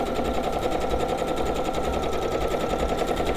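A sewing machine runs steadily while stitching a scant quarter-inch seam on a pieced quilt block, a dense, rapid mechanical chatter that stays close and even throughout with no talking.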